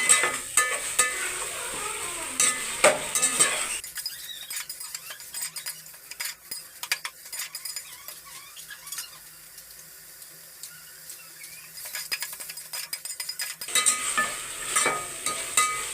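Cashews frying in a pan for chicken biryani are stirred with a metal spoon, giving scraping clinks over a steady sizzle. The stirring pauses midway, leaving quieter sizzling, then resumes loudly near the end.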